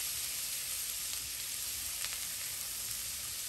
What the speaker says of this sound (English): we're going to add our finely chopped or minced garlic to the pan as well